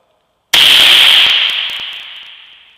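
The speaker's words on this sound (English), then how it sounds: "explosive charge detonated fully and cut the wire" A small explosive charge detonates to cut a wire, one sudden loud hissing burst after a moment of silence, followed by crackling pops as the noise slowly fades out.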